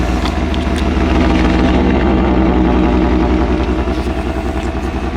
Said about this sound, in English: it actually sounds pretty good with the 5-liter V8